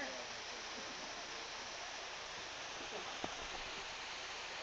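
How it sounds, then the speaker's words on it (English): A waterfall on a hiking trail makes a steady, moderately loud rushing hiss throughout, with one brief knock partway through. "What happened is that Ben, as soon as we got here to this waterfall here, that you can see"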